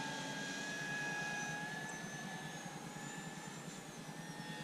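Several Freewing F-22 Raptor 90mm electric ducted-fan RC jets fly together in a pattern over a farm field, giving a steady distant whine with faint tonal sweeps that drift in pitch as they pass.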